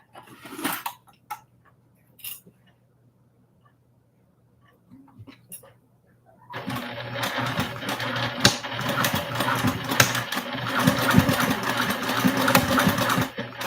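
Sewing machine stitching a Tremont crossbody bag, a steady dense motor whir that starts abruptly about halfway through and runs loud and continuous to the end, after a quieter stretch of faint shuffles and a brief soft whimper.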